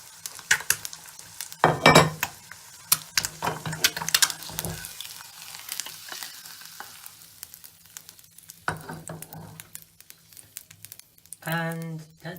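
Egg frying sunny side up in a hot pan, with sporadic crackling sizzle and sputtering bursts plus metal spatula and pan clatter, loudest in short spells near the start and end.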